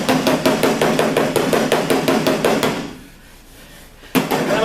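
A metal hammer's pointy end taps a high spot on a car body panel in quick, evenly spaced light strikes for about three seconds, then a pause and one final sharper tap, close and loud.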